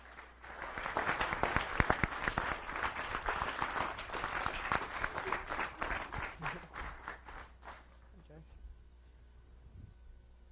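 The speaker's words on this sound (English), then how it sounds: "Let's give a rousing applause for Mr." A business seminar audience gives a standing ovation for a speaker, a loud wash of many hands clapping with cheers for several seconds that gradually thins out into scattered claps and a quiet room.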